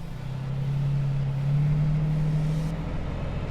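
Off-road vehicle stuck in sand dunes with tires aired down to about 15 PSI, engine revving steadily as its wheels spin and dig in, a loud continuous drone that rises slightly midway.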